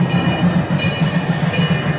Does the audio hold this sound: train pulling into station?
yes